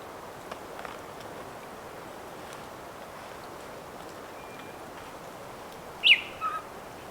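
A brief, high chirping bird call near the end, a short burst followed by two softer notes over a quiet forest background.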